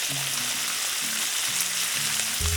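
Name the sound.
garlic, butter and fresh herbs sizzling in pan with strip steak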